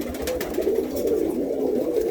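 Pigeons in a loft coo steadily and close, a continuous layered murmur of several birds with cocks courting hens, no voices over it.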